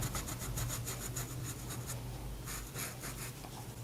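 Pencil or blending stump rubs back and forth across paper while shading a drawing of birds, making a quick rhythmic scratchy swish in bursts, close and alone, with a brief pause midway.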